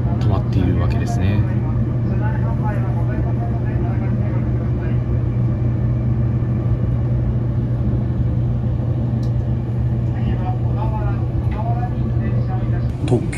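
Aboard an Odoriko limited express train running between Ofuna and Fujisawa, a steady low rumble of the carriage in motion continues throughout, under someone talking close by.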